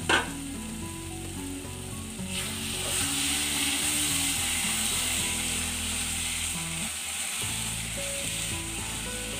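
Prawns simmering with spring onion greens in a pan on a lowered gas flame, giving a continuous bubbling sizzle with a soft knock at the start and faint music underneath.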